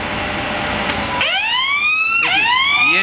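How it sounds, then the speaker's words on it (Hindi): An electrical control panel's alarm hooter sounds after a motor trips: a loud electronic wail that sweeps upward, holds, then restarts with a second rising sweep. "ये हूटर बाजा।"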